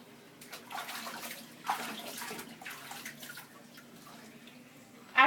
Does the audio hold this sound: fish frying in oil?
no